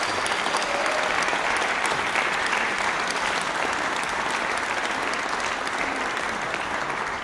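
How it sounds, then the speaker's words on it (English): Sustained audience applause fills a concert hall after a chamber music performance, a dense, even roar of many clapping hands holding steady for over seven seconds with no voices on top. "I think they deserve a round of applause."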